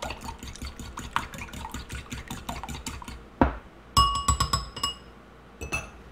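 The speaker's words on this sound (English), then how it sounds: "with my fork I'm going to break that yolk up and get that well mixed by beating it together with the water." A fork beats egg and water in a bowl for fried chicken strips, giving quick rhythmic clinking taps against the bowl that stop and start in short bursts, close and fairly quiet.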